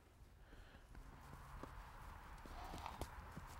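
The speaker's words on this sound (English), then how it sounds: "we have a Nez Perce horse here" Faint, irregular clops of a Nez Perce horse's hooves walking over ground, several soft thuds spaced unevenly against a quiet outdoor background.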